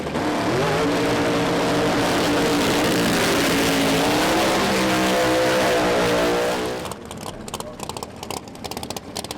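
A Pro Mod drag race car at a British Drag Racing Championship round makes its run, a loud roaring engine climbing in pitch through the gears for about seven seconds before cutting off and fading.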